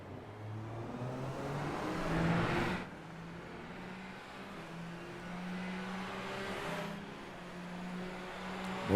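Open-wheel Super Formula Lights race cars roar around Monza in iRacing, a steady high engine drone with two swells as cars pass close, heard without talk.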